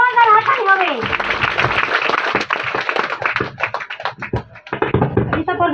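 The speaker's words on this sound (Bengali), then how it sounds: "একবার পরমেশ্বরের জন্য জোরদার হাততালি হবে" Loud applause and clapping for God at a church gathering, dense and sustained across the clip, mixed with raised voices and singing-like cries at the start.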